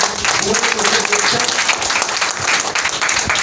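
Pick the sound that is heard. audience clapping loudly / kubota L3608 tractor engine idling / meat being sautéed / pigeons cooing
audience clapping loudly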